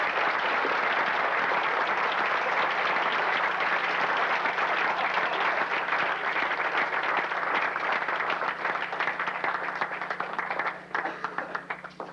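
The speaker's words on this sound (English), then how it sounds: "Clap for them." A crowd claps steadily for parents who helped organize a 1989 Brother Rice high school lacrosse team event, dense sustained applause that thins into scattered claps near the end.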